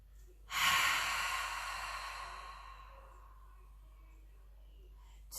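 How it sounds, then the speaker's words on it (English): One long, deep exhalation during a yogalates breathing exercise, breathed out through an open mouth as if fogging a mirror, starting as a loud rush and slowly fading, alone in a quiet room. "as if you're trying to fog up a mirror with your out breath, breathe out."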